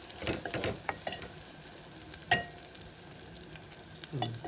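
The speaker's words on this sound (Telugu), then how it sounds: "టమాటా ముక్కలు వేసుకోవాలి." Tomato pieces sizzle and fry in a pan for an egg tomato pulusu curry, with soft stirring scrapes and one sharp clink of a utensil against the pan, fairly quiet and close.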